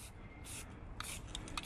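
Short bursts of spray paint hiss onto a sniper rifle, a faint, soft misting in a couple of quick puffs near the end, with quiet handling noise before.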